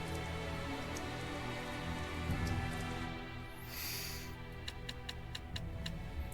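Steady patter of rain in the video game Tales of Zestiria, a soft continuous wash with light ticking drops, under a layered game soundtrack and a brief swelling whoosh midway.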